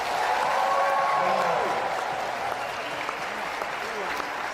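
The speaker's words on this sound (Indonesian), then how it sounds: "Tepuk tangan untuk anak-anak muda kita." A church congregation applauds the young people in the audience with a full, sustained wash of clapping from many hands, loud at first and tapering slightly, while voices and a few cheers rise underneath.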